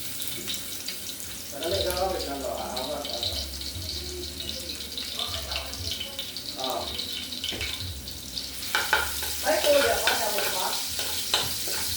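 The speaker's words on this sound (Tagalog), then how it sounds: "At ngayon guys ay pwede na natin gisahin yung bawang at saka sibuyas at saka luya." Garlic, onion and ginger sauté in a pan for a Filipino-style chicken curry, giving a steady close sizzle under scraping stirs with a louder burst toward the end, and faint running tap water in the background.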